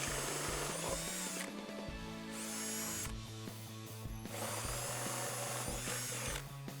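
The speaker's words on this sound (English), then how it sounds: "then we can step that back up to a 3/8 inch drill bit" A power drill with a 3/8 inch bit whirs in several loud bursts while installing Jeep Wrangler TJ rock sliders, spinning up and winding down between runs, with a steady mechanical drone underneath.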